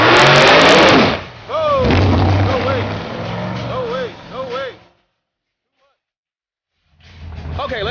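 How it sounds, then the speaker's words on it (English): Nitrous-aided drag race car on a Rick Jones chassis, a loud engine roar and launch in the opening second, then lower engine noise under excited announcer talk before a sudden cutout to silence. "Let's see if he can put all of that big, nitrous aided horsepower down."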